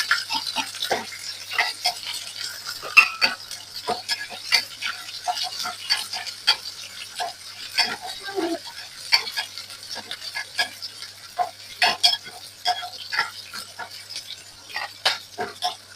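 Mustard seeds and cumin crackling in hot oil for a watermelon curry, with scattered sharp pops and sputters over a low, steady sizzle, fairly close and without talk.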